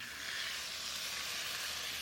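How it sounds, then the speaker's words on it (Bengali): Spice paste with dried red chillies frying in a pan as water goes in, giving a dense, even hiss of sizzling steam, close but fairly quiet and unbroken, with no voices. "এবার জল দিয়ে দিচ্ছি।"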